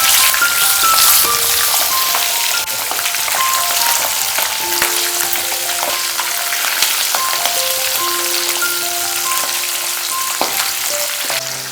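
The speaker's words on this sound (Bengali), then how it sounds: "প্রথমে মাছের মুড়োগুলো ভেজে নেব" Fish heads fry in hot mustard oil with a loud, constant crackling sizzle, dense and close, punctuated by sharp pops and occasional metallic taps from stirring.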